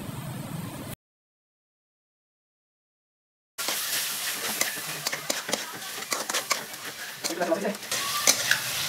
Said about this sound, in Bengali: এবার আমরা হলুদের গুঁড়ো, মরিচের গুঁড়ো, জিরার গুঁড়ো, গরম মশলা দিয়ে মিক্স করে নেব।